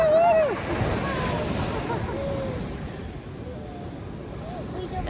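Surf rolls onto a beach in Australia in a steady, broad wash, with wind buffeting the microphone and faint voices in the background.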